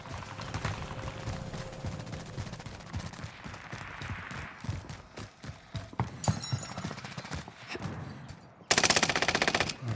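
Rapid automatic gunfire crackles through a multiplayer shooter video game match, with dense overlapping bursts and shots from near and far, then a loud burst of close fire near the end.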